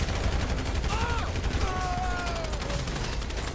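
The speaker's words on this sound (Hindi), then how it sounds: "गोलियां कमाल की चलती" Dense, continuous rapid gunfire from GTA V fills the clip, loud and sustained, with a voice briefly heard underneath.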